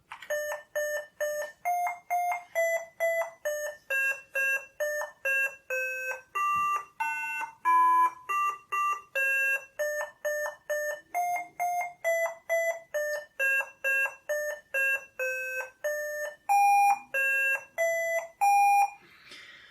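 A computer beeper plays a simple melody of clipped, evenly spaced electronic tones, each note a short square-edged beep, continuing steadily for the whole stretch.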